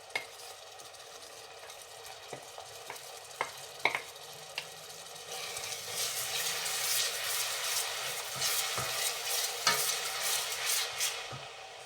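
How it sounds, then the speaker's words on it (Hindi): Ginger-garlic paste and ground onion sizzle and fry in hot oil while a spoon stirs and scrapes the pan, with sharp utensil knocks early on and a steady close frying hiss building through the second half. "इसको हमने मुसलसल हिलाते रहना है ताकि नीचे ना लगे।"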